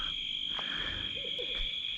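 An owl hoots close by at night among several others, one or two soft low calls set against a steady high drone of insects or frogs, with some lowing cattle and a distant tractor in the background.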